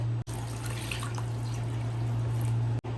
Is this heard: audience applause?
no